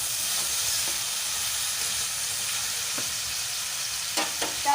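A pan sizzles softly and steadily while food is stirred and fried, with a few faint clinks of the utensil near the end.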